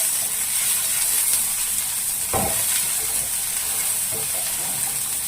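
Corn puffs frying in a pan give a steady, loud hiss of sizzling oil that runs throughout, with a couple of brief stirring scrapes.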